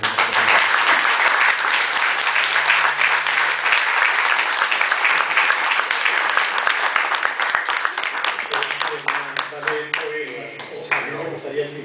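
An audience gives a big round of applause to a Spanish-speaking speaker at a talk, loud dense clapping that thins out toward the end as a voice begins speaking over the dwindling claps.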